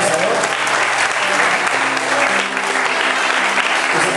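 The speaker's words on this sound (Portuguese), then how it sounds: "Você pode aplaudir o nome do Senhor?" A church congregation applauding during a worship service, loud and continuous clapping that fills the room, with no voice on top and a faint steady tone humming beneath the applause.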